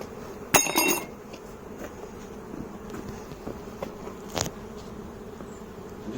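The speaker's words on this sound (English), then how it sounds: "I'm just going to knock these bees into here so that I can clean up this queen excluder" Honey bees drone steadily around an opened beehive during inspection, with a sharp metallic clatter near the start, a later knock, and faint handling taps over the constant close buzz.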